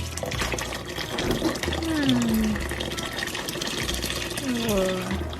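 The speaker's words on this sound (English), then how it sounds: "So now we're going to add our water." Water pours steadily into a pot, a continuous splashing rush close by, while a person speaks over it.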